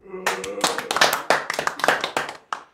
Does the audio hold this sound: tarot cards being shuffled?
no